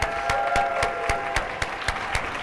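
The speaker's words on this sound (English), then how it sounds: "you guys give yourselves a round of applause" An audience at a Think & Grow Rich training session claps in a steady, fast rhythm, sharp even hand claps following one another for a couple of seconds with no talking over them.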